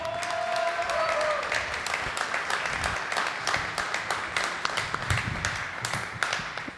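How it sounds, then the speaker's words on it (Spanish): An audience at a political-electoral reform congress gives sustained applause, dense steady clapping throughout with a voice briefly audible at the start. "Un fuerte aplauso, por favor."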